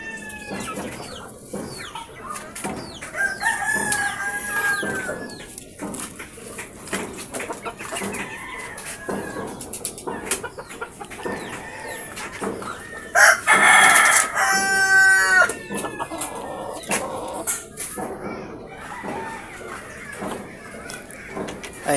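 Backyard chickens in the Philippines: a rooster crows loudly and long partway through, while hens cluck and squawk throughout. Close and busy, with no talking.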